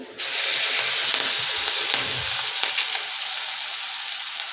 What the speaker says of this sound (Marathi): मोहरी चांगली फुलली की आपण याच्यामध्ये इथे मी पाच मिरची आहे ती बारीक करून घेतलेली आहे ती टाकत आहे